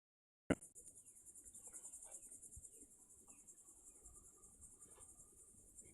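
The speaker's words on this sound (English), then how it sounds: "Some sort of cicada or something up there chirping away." Cicadas chirp in trees during a summer nature hike on Florida's Space Coast, a steady, shrill, high-pitched drone that starts abruptly after a sharp click and continues unbroken, with no voices.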